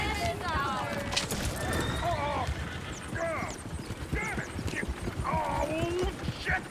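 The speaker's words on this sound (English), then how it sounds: "Oh, shit, the horses! Damn horses!" Horses in the video game Red Dead Redemption 2 clatter with continuous hooves, several high neighs and whinnies rising over the busy clopping, with no clear speech.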